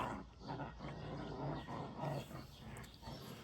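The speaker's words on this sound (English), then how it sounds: "the puppies are playing in their kennel." Puppies growl and yip in short playful bursts in their kennel, a muffled scuffling commotion that carries on throughout.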